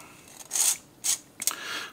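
Dried chili peppers being snipped into small pieces, three short crisp cutting bursts with brief pauses between them, close and fairly quiet.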